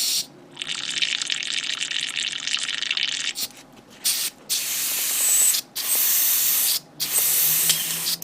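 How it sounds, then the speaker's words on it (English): An airbrush sprays in several bursts of steady hissing airflow during a flow test on a 1/144 HG Gundam model kit build; each spray runs a few seconds with short silent breaks between, close and fairly loud. "let me make sure the flow on my airbrush is coming out pretty well"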